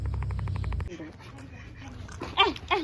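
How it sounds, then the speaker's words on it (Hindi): Small puppies whimper and yip in high, thin cries near the end. Before that come a loud low rumble and some human voices outdoors. "कुत्ते की पिल्ले आ गए यहाँ पे"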